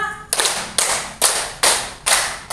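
At an Indonesian work meeting the audience claps in unison on cue, five sharp, loud group claps spaced roughly half a second apart, each dying away quickly before the next.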